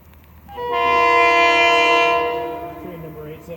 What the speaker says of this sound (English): Train number 874.